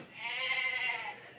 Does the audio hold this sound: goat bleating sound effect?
yes